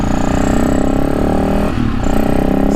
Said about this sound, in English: some more Supermoto riders.